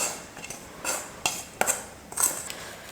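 Roasted coconut is stirred into semolina in a metal pot, producing several faint, sharp scraping clinks of a spoon against the vessel at irregular intervals, with no voices.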